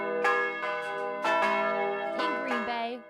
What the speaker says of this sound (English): There's something about a good bronze bell that has a unique sound to